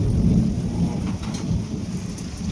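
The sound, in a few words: rain falling on a shed roof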